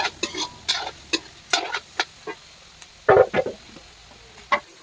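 Duck meat with pumpkin is stirred and fried in a pan over a wood fire, giving a steady sizzle broken by a run of sharp scraping strokes and one louder burst near the end.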